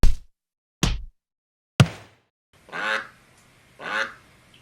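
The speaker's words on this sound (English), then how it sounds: "quack," After several sharp thumps, a duck quacks twice, each call a nasal, raspy honk standing alone and close, spaced about a second apart.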